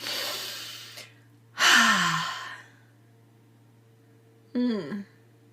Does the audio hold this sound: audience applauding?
no